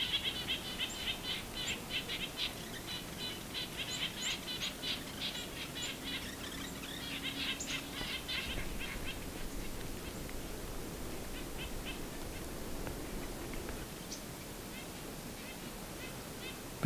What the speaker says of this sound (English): Nuthatches are making quite a racket.